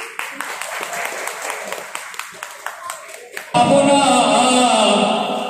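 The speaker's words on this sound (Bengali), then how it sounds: "হাততালি হাততালি, সাধু সাধু" An audience at a women's association gathering claps, first as scattered, separate claps that thin out, then as a sudden, loud, sustained burst of applause.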